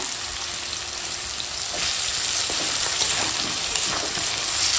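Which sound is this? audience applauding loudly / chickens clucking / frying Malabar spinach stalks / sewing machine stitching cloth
frying Malabar spinach stalks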